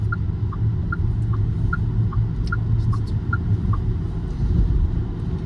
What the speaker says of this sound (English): So acceleration is immediate because it has instant torque due to EV characteristic.